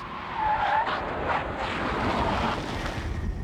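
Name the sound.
1994 Dodge Neon braking hard in brake test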